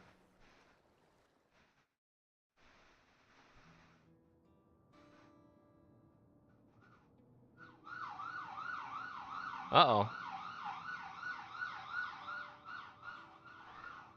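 A siren wails outside, starting around eight seconds in and holding a loud, steady up-and-down cycling tone until the end, with a brief sharper sweep near ten seconds. Earlier there are quiet indoor sounds, and a voice speaks briefly.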